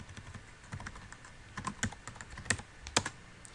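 A command being typed on a computer keyboard for a CentOS 7 virtual machine, with quick, irregular key clicks and a few sharper taps standing out, close and fairly quiet, with no talking.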